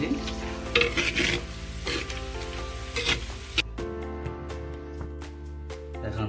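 Onions frying and being stirred until brown in a pan while cooking country-style goat mutton in a clay pot; a steady close sizzle runs throughout with scraping stir strokes and a few utensil clinks, quieter and sparser in the last seconds.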